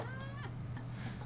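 An indoor cat lets out faint, rising-and-falling meows, two or three short calls over a low background hum, with no talking.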